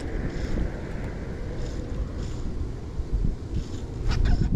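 Wind gusts across the microphone while fly fishing on the Salt River, a heavy, rumbling roar that swells and buffets throughout with no voices.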